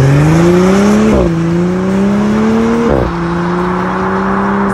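Audi SQ5 with a 3.0-litre V6 engine and a modified exhaust, its resonator removed, revs steadily and loudly up close, the pitch climbing, dropping sharply twice, then rising again, with no talk.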